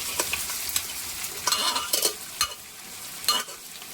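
Mutton pieces going into hot oil in a frying pan and being stirred, giving loud bursts of sizzling with sharp scraping strokes at an irregular rhythm, close by with no talking.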